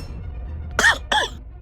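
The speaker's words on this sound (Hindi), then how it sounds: "इतना बोलते ही वो खांसने लगते हैं और मंत्र को बीच में ही अधूरा छोड़ देते हैं" A man coughs twice in close succession while chanting a Ganesh invocation mantra during a Hindu puja, two short harsh bursts close by over a quiet room background.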